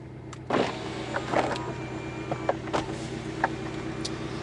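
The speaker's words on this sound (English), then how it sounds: "I'm also gonna drop the roof because, well, it'd be rude not to really." A 2016 Porsche 718 Boxster's convertible roof retracts, giving a steady electric motor whir over a low idling hum, punctuated by several soft mechanical clicks and thunks as the top folds down.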